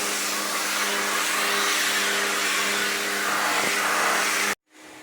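Vacuum cleaner running steadily and loudly while cleaning an indoor air conditioner unit, a constant whine that cuts off abruptly near the end, leaving a quieter hum.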